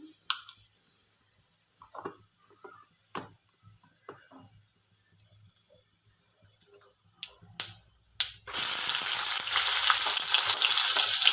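Cumin seeds frying in hot oil for a soybean curry, first a few faint ticks and pops, then a sudden loud, steady sizzle that fills the last few seconds.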